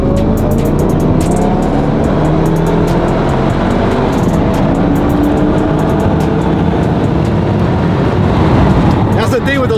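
A 2024 Ford F-150 4x4 truck's engine roars steadily as its wheels spin hard, a loud continuous rumble throughout with people talking over it.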